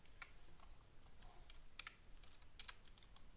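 Computer keyboard typing, faint and close, with scattered clicks and small bursts of keystrokes in an irregular rhythm, no voices.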